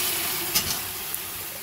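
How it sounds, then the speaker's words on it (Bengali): Boiled chicken, tipped into fried onions along with its cooking water, sizzles loudly and steadily in a pan, with a couple of faint utensil knocks and no talking. "এবার দিয়ে দেবো আমি সিদ্ধ করে নেওয়া চিকেন।"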